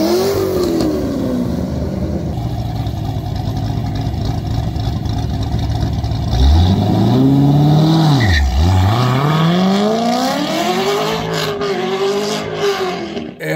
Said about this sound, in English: And Ben loses traction at second gear, so he has to get out of it